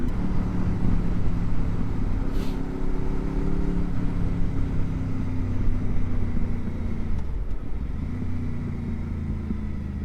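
A steady Honda VFR800 motorcycle engine drone with a low rumble and shifting pitch as the bike changes speed, continuous and fairly close, with no talking.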